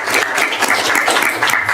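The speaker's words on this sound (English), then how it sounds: "if y'all would give them a round of applause" Audience at a city board of directors meeting applauds; a short, steady patter of many hands clapping fills the room at moderate level with no talking over it.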